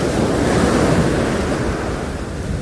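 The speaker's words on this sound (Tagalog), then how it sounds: "Ang panahon, malalaki ang alon." Big ocean surf rolls and crashes steadily near a hut by the shore, a loud continuous roar of breaking waves with wind buffeting the microphone throughout.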